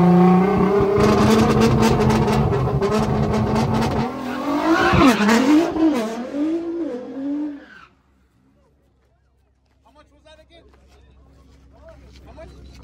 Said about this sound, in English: Hey, you gonna do a burnout?